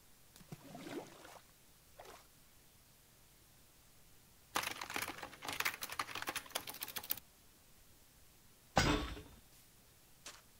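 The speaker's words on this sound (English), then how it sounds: "Sorry for my loud keyboard." Loud computer keyboard keys clatter in irregular bursts, with a few isolated clicks, one long run of rapid typing in the middle, and a sharp thud near the end, close and dry with no talk.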